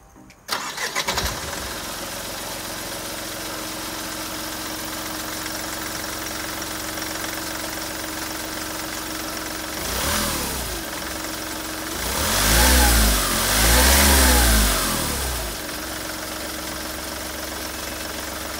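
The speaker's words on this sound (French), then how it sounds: "je vais vous faire écouter le bruit de ce petit 4 cylindres en Mercedes" A Mercedes four-cylinder car engine cranks and catches, then settles into a steady idle before two rising revs swell and fall back, close and clear with no talking.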